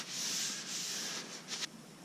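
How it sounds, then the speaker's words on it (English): A cloth wipes linseed oil along a sanded wooden spear shaft, giving soft, steady rubbing strokes that are faint and close, with a few brief scuffs near the end. "that's just wiping it down with some linseed oil"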